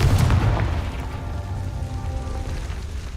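A Confringo blasting spell goes off in Hogwarts Legacy, a loud, rumbling burst at the start that trails into a long crackling, hissing decay.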